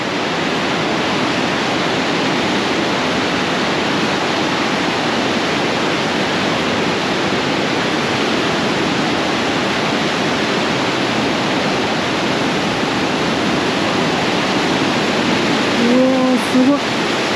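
The rushing rapids of the Niagara River, with waves said to reach about five meters, make a loud, unbroken broadband roar throughout; a voice briefly speaks near the end.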